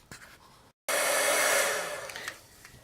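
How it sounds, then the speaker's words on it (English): A heat embossing tool switches on after a short silence and blows a steady, loud whooshing stream of hot air close by, slowly easing off toward the end. "I'll go set this with my embossing tool, heat embossing tool"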